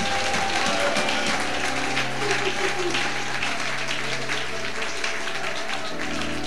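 A church congregation applauds and cheers for Jesus, sustained dense clapping filling the whole stretch with a loud, even crowd roar and voices mixed in.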